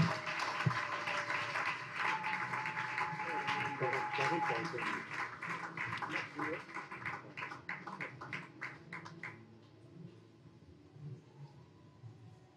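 Applause and cheering from a church congregation during a French-language service, a dense patter of many hands for several seconds that thins out and fades, with voices mixed in.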